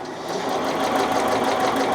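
Embroidery sewing machine, a BAi Vision, stitching steadily with a dense run of rapid clicks and clacks, loud and close throughout, with no talking.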